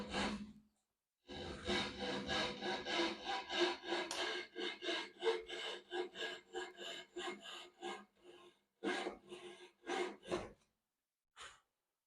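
Hand saw cutting wood for a wedged tenon on workshop trestles, a run of rhythmic rasping strokes close by, pausing briefly before a few final strokes, with no talking.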